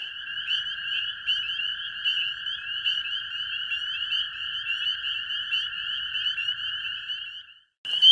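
Frogs in the wild of Michigan's Upper Peninsula trill and croak in a dense, continuous chorus, steady and fairly close. It cuts off abruptly near the end.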